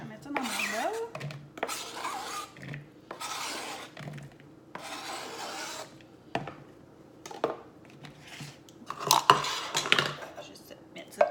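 Chopped canned artichoke tipped into a bowl for an artichoke dip, with utensil scraping and clinking against the dish in short bursts of rubbing and tapping, close and moderately loud.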